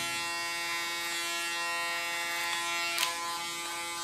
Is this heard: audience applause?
no